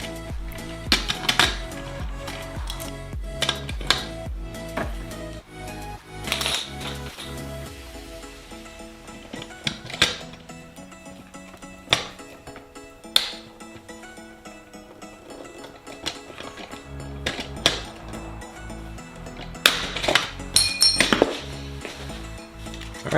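A hand rivet tool pulling rivets into an aluminum aircraft flap drive rib on a Sonex kit build, sharp metallic snaps and clinks spaced irregularly over quiet workshop background, close and clear with no talk.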